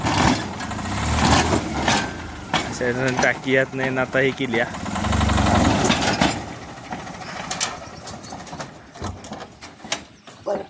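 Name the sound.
tempo truck engine started and running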